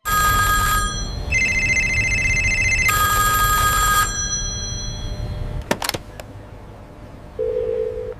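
A telephone rings in repeated bright electronic bursts, then falls silent before a sharp click and a short beep.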